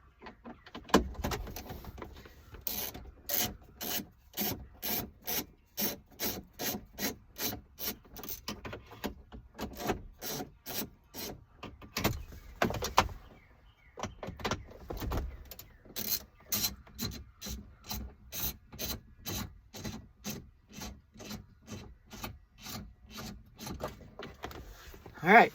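Ratchet on a 10-inch extension backing out deep-set 10 mm bolts holding a Toyota Tundra dash radio: rapid rhythmic clicking in long bursts, close up, with a brief pause midway, no talking.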